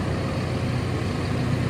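A JCB's diesel engine runs at a steady, low, heavy idle, continuous and close with no other sounds.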